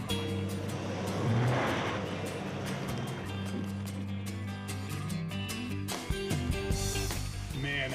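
A 2007 Chevrolet Silverado pickup hauls a boat out of the water, its engine drone steady and fairly close. Music plays over it throughout, and a sharper revving burst comes near the end.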